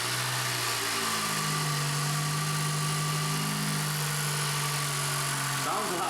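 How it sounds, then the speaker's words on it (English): A 2019-2021 Toyota Corolla fitted with a cold air intake idles after starting, a steady close engine drone with a low hum that rises slightly midway and shifts near the end. "So he's gonna start up the car right now,"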